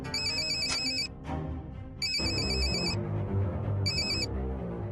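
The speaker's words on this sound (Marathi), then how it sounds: "मगचपासून फोन करतोय तर फोन उचलत नाहीयेस तू" A telephone rings with a bright electronic ringtone in three repeated bursts separated by short pauses, sitting loud and close over a steady low background hum.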